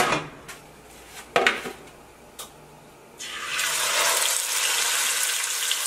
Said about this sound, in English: That's exactly what you want to hear. All that sizzle.